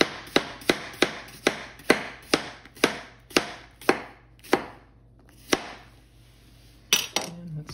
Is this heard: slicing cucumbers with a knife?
yes